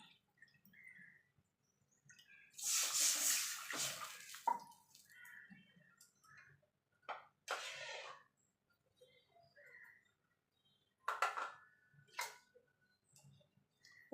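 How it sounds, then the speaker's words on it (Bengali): Two bowls of water are poured into a cooking pan holding a potato and semolina mixture, making a soft splashing rush, then scattered faint drips and clinks in a quiet kitchen. "এবার দিয়ে দেবো জল। আমি 2 বাটি জল দেবো।"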